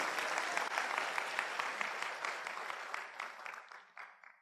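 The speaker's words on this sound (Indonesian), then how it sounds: "Yang setuju boleh tepuk tangan sekali lagi teman-teman." Seminar audience bursts into applause, a dense, energetic clapping that gradually thins and fades out toward the end.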